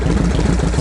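Harley Shovelhead V-twin with a Mikuni carburetor and a raspy cam idling steadily, a dense continuous low rumble, close and loud with no talk.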